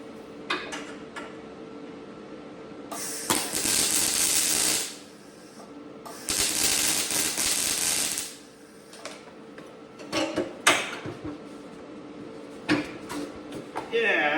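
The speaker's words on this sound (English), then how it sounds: "so I'm just going to weld it." Welding a seam on a Loadstar pickup, with two sustained bursts of loud crackling hiss lasting a couple of seconds each, separated by clanks and shorter sputters of metal work close by.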